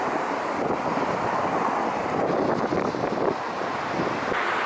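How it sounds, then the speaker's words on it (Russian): Wind buffets the microphone at the seashore, a steady, rough roar with the broad wash of surf rolling underneath and no voices. "А вон там вот море."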